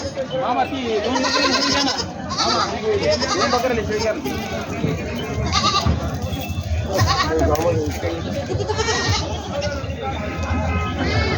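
Goats at a large goat and sheep livestock market in Vasmat, Maharashtra, bleat repeatedly and loudly, several overlapping calls rising over a constant crowd hubbub, with people talking throughout.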